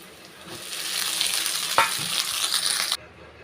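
Rice with okra stir-fried in a pan makes a loud, continuous sizzle with stirring scrapes and one sharp knock, then the sound cuts off abruptly near the end.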